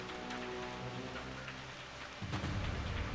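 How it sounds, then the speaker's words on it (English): Rain in the video game Reverse: 1999, a continuous hiss of falling drops with a low rumble, building louder and heavier in the final second. "It's raining."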